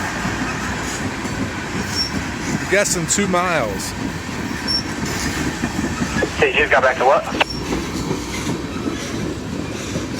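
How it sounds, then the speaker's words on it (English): A long CSX freight train of tank cars rolls past close by, a steady rumbling clatter with sharp wheel squeals breaking through twice, while people talk over it. "A lot of tanks today. Big train."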